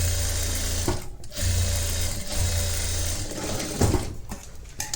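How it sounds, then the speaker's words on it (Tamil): An electric sewing machine runs a flat stitch on blouse fabric in close, loud bursts of rapid mechanical chatter, with two brief pauses between runs. "ஃப்ளாட் ஸ்டிச் போட்டுக்கோங்க."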